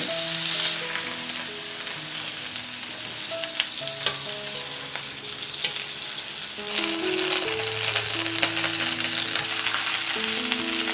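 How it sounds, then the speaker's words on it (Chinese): Chicken wings fry skin side down over low heat in a little oil, pressed with a soft silicone spatula, giving a steady soft sizzle that runs throughout beneath background music. "锅里油不要放太多，把皮的这一面呢朝下，用小火慢煎，多翻一下面。"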